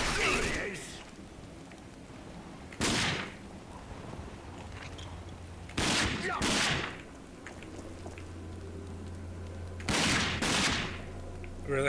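Bursts of gunfire from the shooter game Rage come in three loud, separate volleys about three seconds apart, each over a low steady background hum.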